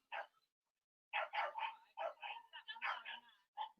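A dog barks in short bursts, a single bark followed by a rapid string of loud, close yips and barks, with a voice calling out briefly.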